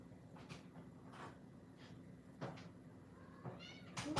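A cat meowing indoors, several faint scattered meows in an irregular rhythm over quiet room noise, ending with a louder, closer cry.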